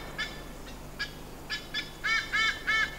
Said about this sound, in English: the white-bellied sea eagle.